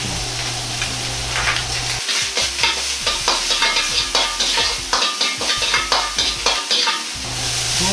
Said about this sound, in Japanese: そうしたらニンニク生姜と豆板醤を少量で炒めていきます。